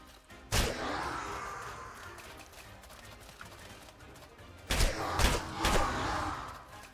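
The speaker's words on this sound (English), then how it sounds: "Got caught by the explosion." In the Outward video game, two explosions go off a few seconds apart, each a sharp loud blast followed by a rumbling, crackling tail over a noisy background of game sound.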